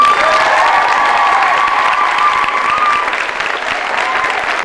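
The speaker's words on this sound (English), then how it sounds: "Could we have a round of applause in the background?" An audience at a Cambridge Gang Show, a scouting and guiding stage show, gives a full, steady round of applause with some cheering mixed in, loud and continuous before gradually easing.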